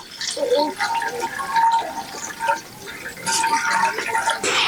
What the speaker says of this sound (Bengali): এখানে আমি একটা কড়ার ভিতরে ছেঁকে নিচ্ছি দুধটাতে